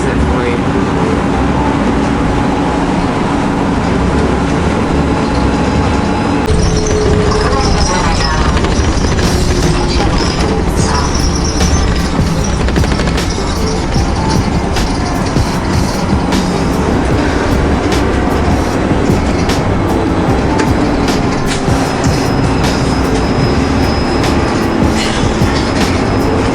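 Steady, loud rumble of a moving vehicle ride in Budapest, continuous engine and road noise with rattles and clicks throughout, and a voice occasionally talking over it.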